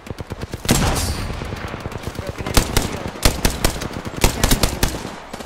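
Bursts of automatic gunfire in the video game Apex Legends, loud rapid shots in clustered volleys, with a game voice callout at the start.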